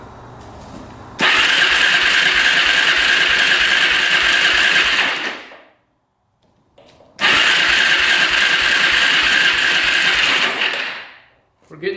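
A quad's engine cranks with the throttle held open during a compression test, in two long loud bursts of fast rhythmic churning separated by a brief pause.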